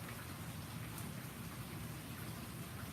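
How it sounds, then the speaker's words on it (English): Steady rain falls around a porch, a soft, continuous hiss of drops that stays even and fairly quiet throughout with no talking. "It is raining over here."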